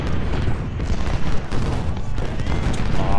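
Cannon and musket fire from the strategy game Ultimate General: Civil War, a dense, continuous barrage of booming artillery blasts and gunfire rolling loudly throughout with no pauses.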